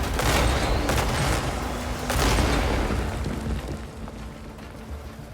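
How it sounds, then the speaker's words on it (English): Enemy gunfire in the video game Crimson Desert crackles in dense bursts mixed with heavy booms, loud at first and then easing slightly as the volley continues. "Who's shooting at me?"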